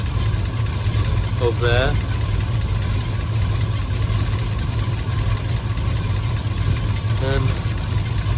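A Triumph Stag engine, suspected of a blown head gasket, idles steadily after warming up, a constant low rumble throughout with a voice briefly heard twice over it.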